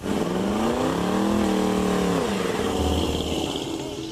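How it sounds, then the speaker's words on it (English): A lowrider Impala's engine revs up loudly, pitch climbing then falling away, close and throaty, followed by a rumbling idle. "You want the speed, you want the engine, you want to hear it roar."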